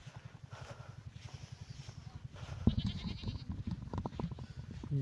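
Goats bleat in a steady stream of short, nasal calls, some overlapping, with a brief louder clatter midway and outdoor background noise, on a Teesta river char beside a tent camp.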